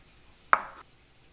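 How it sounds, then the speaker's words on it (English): A knife slices through peeled citrus fruit into thin rounds, making a single crisp cut against a board that fades within a fraction of a second, close and quiet otherwise with no talking. "Okay, so then we're just thinly slicing them."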